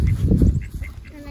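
Wild ducks at a snowy feeding spot after a snowstorm give a run of loud, close honking calls in quick succession, with faint voices underneath.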